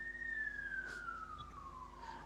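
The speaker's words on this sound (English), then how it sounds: "that siren as a sign" An emergency siren wails in a single long tone that slowly falls in pitch, steady and fairly prominent against a low background hum, with no talking.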